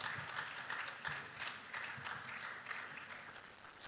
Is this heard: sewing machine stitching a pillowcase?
no